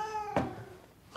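A cat gives one short, clear, close meow with a tonal rising-and-falling voice, then quiet room tone follows.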